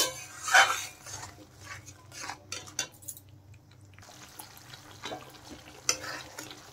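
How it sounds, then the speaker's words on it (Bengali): Ground spices with turmeric and chilli powder frying in a pan while being stirred, a sizzle with scraping spoon strokes and light clinks of metal against the pan, close and without talk. "এখন নেড়ে চেড়ে মশলা ভালো করে কষিয়ে নেব"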